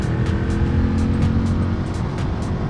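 A Husqvarna Vitpilen 701 motorcycle engine runs at low revs below 3,000, a loud steady throbbing drone close by with a faint regular ticking over it.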